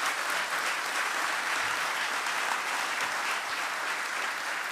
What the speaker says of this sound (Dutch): Even een heel hard applaus ook voor Petra